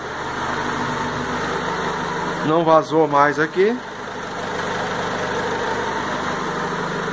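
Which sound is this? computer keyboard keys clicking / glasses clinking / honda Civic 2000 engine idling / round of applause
honda Civic 2000 engine idling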